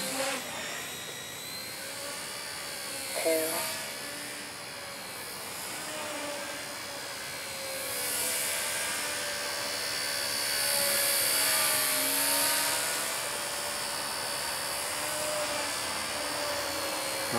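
An XK K124 scale EC-145 micro RC helicopter flies nearby with a steady high-pitched whine of its small motors and rotors, rising and falling as it maneuvers and holds its tail, with no talk over it.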